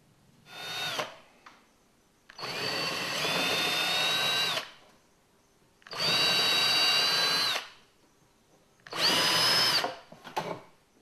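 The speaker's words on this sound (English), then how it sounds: "We now need to open up the holes in a removable panel for the 4mm screws" Power drill opening 4mm screw holes in a removable aluminium panel of a car build, four separate whining bursts of a few seconds each with quiet gaps between, close and fairly loud.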